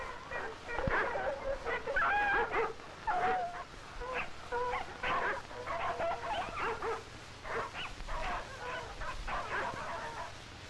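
A team of sled dogs out on snow barks, yelps and whimpers again and again for several seconds, their voices overlapping at a moderate distance.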